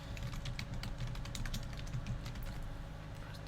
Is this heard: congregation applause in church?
no